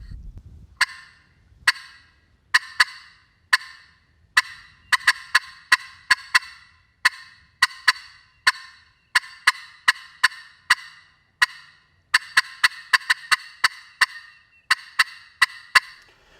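A glass or slate turkey friction call is worked in a series of sharp, crisp clucks and rapid cutting bursts, loud and close with brief pauses between clusters.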